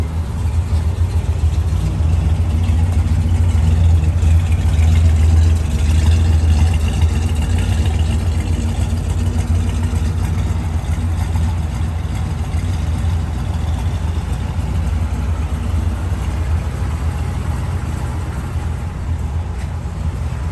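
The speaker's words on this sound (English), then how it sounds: "exhaust." A 1964 Chrysler 300 Series K idles steadily, its exhaust giving a deep, even low rumble that continues close and unbroken for about twenty seconds.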